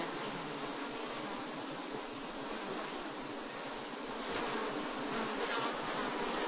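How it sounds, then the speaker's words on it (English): Honeybees swarm over an opened hive frame where young bees are emerging from their cells, making a steady, dense, close-up buzzing drone that holds throughout and swells slightly near the end. "Apparently she did, as there are bees emerging on this frame."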